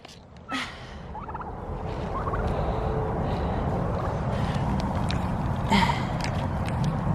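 Turkeys gobble in bursts at the start and again near the end, over a steady background hum of a farmyard.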